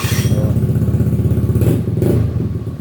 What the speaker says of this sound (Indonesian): Perhatikan ya, tanpa digas dia langsung hidup ya, tanpa digas.